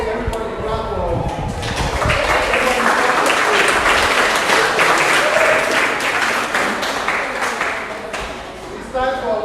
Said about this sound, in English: Okay, everybody clap for her.